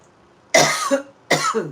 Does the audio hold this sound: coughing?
yes